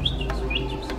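A person whistles a quick series of high, bird-like chirps, imitating a small bird's tweeting in short rising notes.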